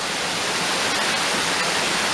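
A waterfall in the Cloister's valley rushes in a steady, dense roar, full and even from start to end with no pauses or other sounds over it.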